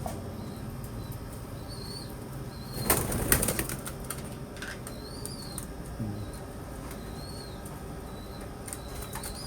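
Pearl-eyed pigeons in a breeder loft give a short burst of wing flapping about three seconds in, along with a few fainter flutters. Soft chirps and a steady background murmur carry on throughout.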